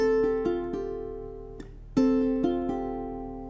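Ukulele notes picked one at a time from a chord shape in a steady pattern, a pair struck together then single notes, ringing clearly with no voice, playing The Andy Griffith Show theme.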